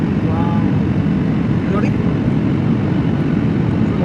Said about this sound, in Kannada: ಫ್ಲೈಟ್ ಲ್ಯಾಂಡ್ ಎಲ್ಲ ರೆಡಿ ಆಗ್ಯದ